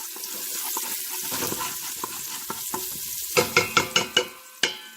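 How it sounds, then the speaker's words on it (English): Garlic frying in hot oil for a sausage lentil soup, a soft sizzle at first, then a quick run of sharp metallic clinks and scrapes as it is stirred. "I'm heating up my oil, and I'm putting in my garlic. I'm going to saute my garlic."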